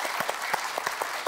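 Studio audience clapping in a brief, dense burst at a game show, steady and close with no voices over it.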